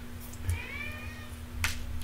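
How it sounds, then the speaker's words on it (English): A house cat cries just outside the room, a single drawn-out meow with rising and falling harmonics, muffled by the wall and fairly distant, over a steady low electrical hum with a brief knock near the end. "listen to my cat cry outside like she's so abused."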